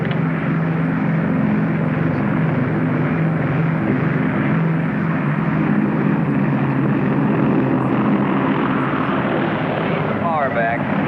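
A propeller airplane with 20-degree then full flaps down comes in to land, its engine droning loud and steady throughout, with voices talking over it.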